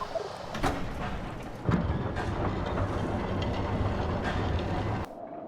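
A train in a horror video game train station rumbles with a low, steady rolling sound and faint clacks and knocks, then cuts off abruptly near the end.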